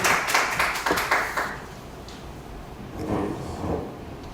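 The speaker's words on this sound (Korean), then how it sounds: "나오실 때 환영의 박수 해주십시오" Congregation clapping to welcome a pastor coming forward in a church service: a short burst of hand claps at the start that quickly fades, then quiet room noise with faint rustling and movement.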